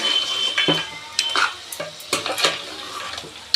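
Goat head curry with chilli powder is stirred in a metal pan, a series of close, uneven scraping and clinking strokes of a spoon over a low sizzle, with no voices.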